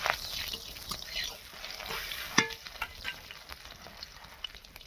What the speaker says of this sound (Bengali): তেল দিয়ে দিয়েছি, কাঁচা লঙ্কা দিয়ে দিলাম। এই 5 ফোড়ন দিয়ে দিলাম।